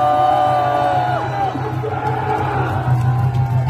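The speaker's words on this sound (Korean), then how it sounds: "큰 박수 부탁드립니다" A large crowd cheers and applauds at a student rally at Pusan National University, a dense, loud, steady roar of clapping and voices that holds for several seconds without a break.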